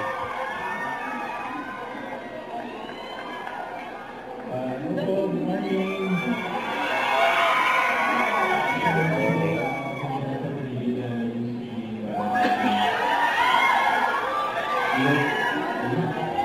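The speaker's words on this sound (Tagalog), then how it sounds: "sigawan yung mga fans nila eh" Inside a cinema, a crowd of fans chatters and cheers, swelling into louder shrieks at times, with voices talking throughout.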